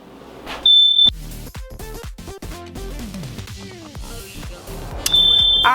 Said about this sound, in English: The whole complex alarm is going off, so I turned the stove off.